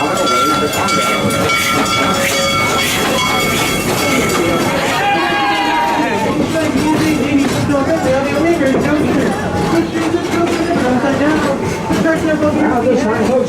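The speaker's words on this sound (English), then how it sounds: "There you see our green train is currently passing by on the opposite track to our left." The Serengeti Express theme-park train at Busch Gardens passes on the opposite track, a loud continuous rumble and clatter of wheels with squealing tones, heard close and steady throughout, with a voice talking over it.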